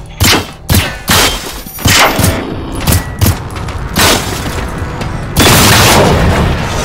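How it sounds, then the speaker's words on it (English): Repeated booming explosions and heavy thuds from the video game Generation Zero at an airfield, loud and close, arriving in irregular bursts with a sustained blast near the end. "They both just died right there off that one explosion from that thing."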